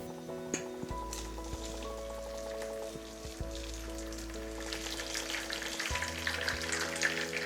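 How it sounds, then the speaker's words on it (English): Boiling water poured from a kettle over spinach in a bowl, making a steady close splashing hiss with scattered droplet patter that continues through the whole pour, with no talking. "I'm simply going to pour the boiling hot water over the spinach"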